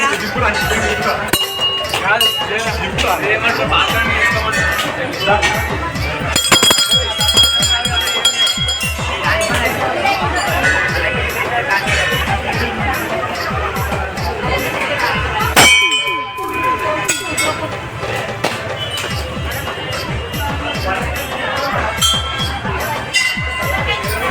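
A temple bell clangs loudly and metallically, ringing repeatedly over a busy, noisy background with voices and clatter throughout.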